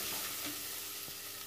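Chopped carrots sizzle and fry in a pan while being stirred for a kanji dish, a soft continuous crackle with a few scraping stirs and no talking.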